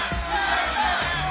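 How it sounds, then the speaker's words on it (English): An arena crowd at the NA LCS Spring Playoffs, a League of Legends esports event, roars and chants for Cloud9, a dense, sustained wash of many voices at a steady level. "Cloud9 chants are starting to overpower the disheartened TSM fans in the crowd."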